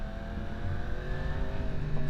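A 2023 Yamaha MT-10 motorcycle with a modified exhaust revving, a loud, close, continuous engine drone that swells slightly toward the end, with no voices.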